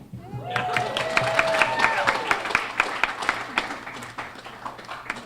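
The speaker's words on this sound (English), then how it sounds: "Everybody clap." A dinner crowd applauds the newly sashed Grand Marshal at the Spirit of Shrewsbury event, starting abruptly after a brief voice and settling into distinct, rhythmic claps that thin out toward the end, with a low steady hum underneath.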